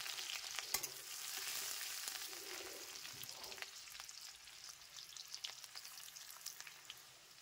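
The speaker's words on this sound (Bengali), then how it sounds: "এখন আমি জিরে সব কিছু কম বেশি দিয়ে দেবো, পেঁয়াজ, কাঁচা লঙ্কা। এটা এখন খুব সুন্দর করে একটু হালকা ভেজে নেবো।" Potatoes with cumin, onion and green chilli fry gently in a pan, giving a soft, steady sizzle broken by scattered crackles and the scrape of stirring, fairly quiet and with no voices.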